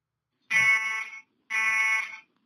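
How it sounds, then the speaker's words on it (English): Two loud, harsh electronic ship alarm blasts in the video game Stranded, each about three-quarters of a second long, separated by a short silence and sounding close and insistent. "There's the alarm to allow that something's not right on the ship"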